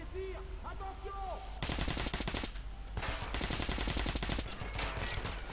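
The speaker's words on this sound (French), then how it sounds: "On encaisse des tirs." Incoming gunfire in Metro Last Light Redux: sustained rapid automatic fire rattles in two long bursts, with dense clattering shots over a low rumble and some faint voices before it.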